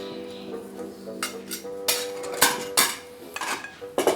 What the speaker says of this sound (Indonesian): Sekarang kan Papa mau nyuci piring.